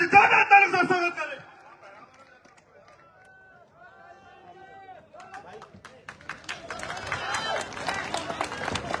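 A crowd at an outdoor political rally in Mundawar bursts into rising applause and cheering to welcome Chandrashekhar Azad, following a man's loud announcement over the PA; the clapping swells and continues to the end.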